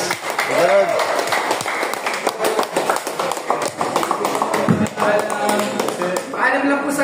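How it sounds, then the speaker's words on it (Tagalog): An audience claps in a quick, uneven patter at a charity event while voices talk over it, the applause fairly close and steady for several seconds. "Pwede ba palakpak para kay Lord naman?"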